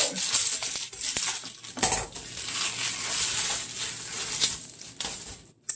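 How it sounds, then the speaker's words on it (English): Cardboard delivery boxes are cut open with scissors, giving scattered scraping, snipping and crinkling noises with a few sharper clacks, fairly quiet and close, with no talking. "we got some Amazon deliveries, boxes and stuff. We're just gonna break into them and see what's going on. So I got some scissors"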